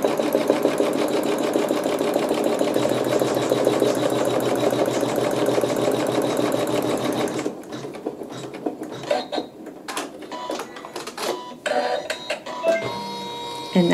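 Sewing machine quilting fabric, running slowly but steadily for about seven seconds in a continuous rapid chatter, then stopping and giving way to scattered small handling clicks and fabric rustles.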